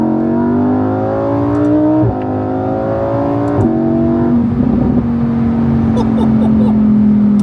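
A Lamborghini Huracan convertible engine revs hard in Dubai, climbing in pitch, dropping at each gear change and then surging again, loud and close.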